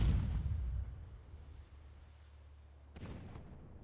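A deep boom of naval ship guns firing armour-piercing shells in the NavalArt video game rolls off into a low rumble, followed by a fainter sharp crack near the end.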